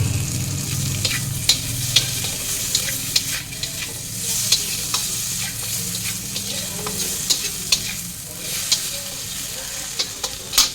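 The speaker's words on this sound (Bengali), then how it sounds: "সামান্য একটু ঘি দিয়ে দিলাম 1 চামচের মতো।" Ghee sizzles steadily in a pan, about a spoonful, with a constant crackling hiss and frequent sharp pops and spatters throughout, occasional scraping clicks of stirring, close and moderately loud with no voices.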